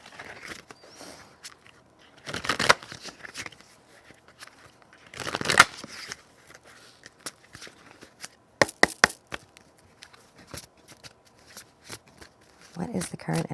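Tarot cards are shuffled close by in several bursts of crisp riffling and slapping, separated by quieter handling, with a voice speaking between them.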